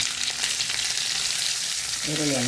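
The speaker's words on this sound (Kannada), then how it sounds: "ಈರುಳ್ಳಿಯನ್ನು ಹಾಕ್ಕೊಂಡು ಸ್ವಲ್ಪ ತಿರುಗಿಸಿಕೊಂಡು" Chopped onion hits hot oil in a pan and is stirred, giving a loud, steady sizzle throughout with no talk.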